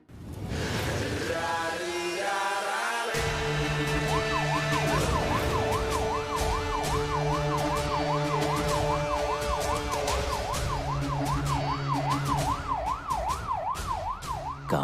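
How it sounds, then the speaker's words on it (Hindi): A police car siren wails loud and close in a village scene, a steady rising-and-falling electronic siren that runs without a break, layered over background music, with no talking. "गांव में इस वक्त पुलिस की गाड़ी क्यों आई हो?"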